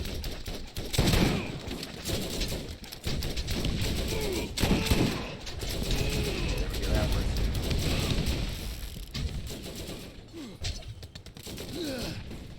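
Rapid bursts of gunfire and explosions from a vehicle-mounted gun in the video game Borderlands, dense and continuous combat noise throughout, with a voice talking over parts of it.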